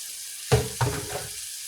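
Whole goat trotters hit hot masala with no water added, setting off a loud close sizzle in two quick bursts that settles into steady frying.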